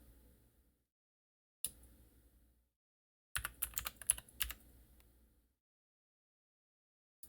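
Computer keyboard typing close to the microphone: a single click, a pause, then a rapid flurry of crisp keystrokes, followed by quiet and one last tap at the end.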